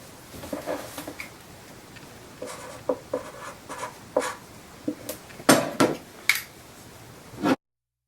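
A pen scratches out notes during soap-making oil preparation, with short, irregular scribbling strokes close by and light taps and pauses between them, ending abruptly.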